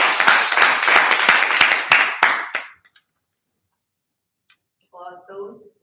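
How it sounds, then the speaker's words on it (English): Applause for the general evaluator at a Toastmasters club meeting, a close burst of clapping with a few sharp individual claps that fades out after about three seconds, followed by silence and then a voice speaking. "Let's give her a round of applause."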